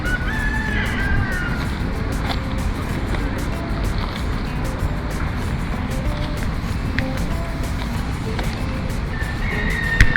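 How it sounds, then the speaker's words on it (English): Roosters crow in Porto in a busy outdoor setting. A few rising calls stand out over a constant loud rumble of wind and traffic, one near the start and another at the end. "on this side you have like a bunch of roosters crowing"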